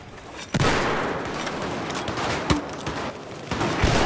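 Gunfire in the video game Battlefield 4 during close-quarters combat, with sharp single shots and short bursts cracking out irregularly over a dense, noisy background of game ambience.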